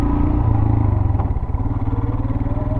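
A KTM 390 Adventure motorcycle on an off-road trail, its single-cylinder engine running at a low steady rumble with a rhythmic pulsing chug, close and continuous, with slight clatter.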